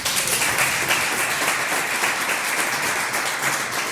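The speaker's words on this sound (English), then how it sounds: "Can y'all give him a round of applause, please?" A crowd applauds steadily, dense overlapping claps filling the space for several seconds without a break.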